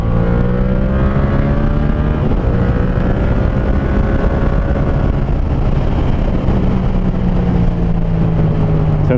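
Yamaha MT-07 motorcycle with an SC Project Conic exhaust, riding at speed and pulling through the revs, a loud steady engine drone with climbing and falling pitch sweeps under heavy wind rush.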